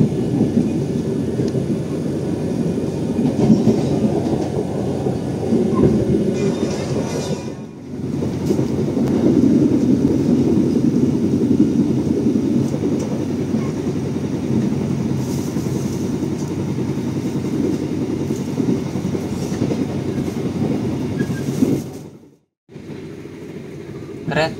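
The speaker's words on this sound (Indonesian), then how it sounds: "Kereta api Madiun Jaya ini mengambil jalur sebelah kiri untuk menuju ke arah Cirebon." The Madiun Jaya executive passenger train runs along the line near Jakarta with a loud, steady low rumble and wind buffeting for over twenty seconds, briefly dropping out twice.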